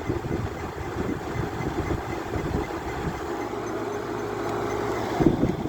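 A garage air conditioner runs on high fan after a cold start, giving a steady low droning hum with constant airflow noise that stays close and even throughout, with no speech.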